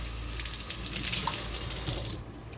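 A soapy sponge is rinsed under a running sink tap, giving a loud, steady gush of water that cuts off sharply near the end, with no voices.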